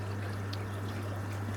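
In a garden pond, water from a skimmer driven by a 10,000 Evolution Aqua Vary pump runs through a Pond Expert spin clean filter, a soft continuous trickle over a constant low electrical hum.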